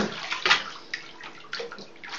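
A dog swimming and splashing in a filled bathtub, irregular sloshes of water with a few sharper splashes, close by.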